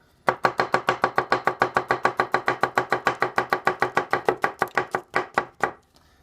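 A Takamura Chromax santoku knife slicing tomatoes thinly on a cutting board: about thirty-five quick, evenly spaced knocks in a steady rhythm, close and crisp, slowing for a final few cuts; no talking.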